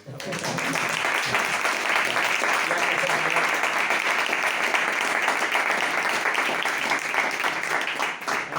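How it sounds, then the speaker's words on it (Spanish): Sustained audience applause fills a book presentation, a dense steady clapping that holds at full strength for the whole stretch, with some voices mixed in beneath it. "vamos a darle un aplauso."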